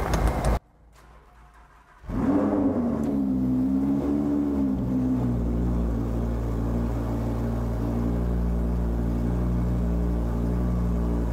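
Lamborghini Huracan Spyder supercar engine fires up after a short quiet pause, flaring loudly and then settling into a loud, booming cold-start warm-up idle with open exhaust valves, heard up close.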